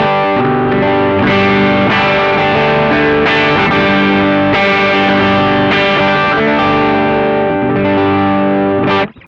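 Electric guitar through a BOSS OD-3 overdrive pedal with the tone set near nine o'clock, playing loud, steadily distorted chords and notes for about nine seconds before stopping abruptly, with no talking.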